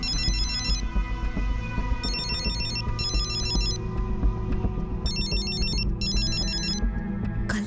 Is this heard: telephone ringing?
yes